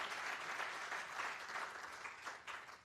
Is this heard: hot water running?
no